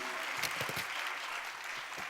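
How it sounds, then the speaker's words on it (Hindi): Audience applause at an Indian public event, a brief burst of scattered, fairly faint clapping from a crowd. "जोरदार तालियां कम हैं, जरा और बजनी चाहिए।"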